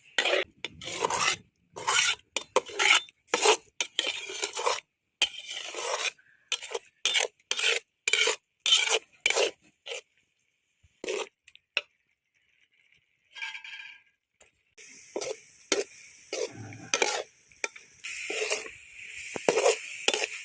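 A metal spoon scrapes and stirs goat blood fry in a pan, giving a series of rhythmic rasping strokes with short pauses, close and fairly quiet, with a faint sizzle near the end.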